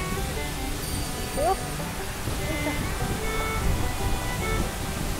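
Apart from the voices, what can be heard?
powerful waterfall on the way to Uryunuma wetland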